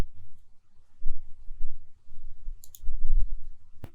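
Typing on a computer keyboard while installing Anaconda, with sparse soft key clicks in short bursts, quiet and close, with no talking.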